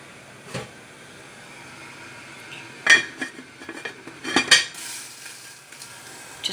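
A lid is set onto a pot of plum tomatoes being blanched in boiling water on a home stove, giving a few sharp metallic clanks and rattles, one soft clink first, then a louder cluster of knocks, over a quiet hum.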